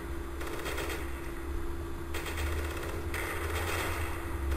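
Sustained gunfire from several units in the World War II strategy game Close Combat 5, set in the Battle of Berlin, a dense steady rattle of machine-gun and rifle fire with no talk.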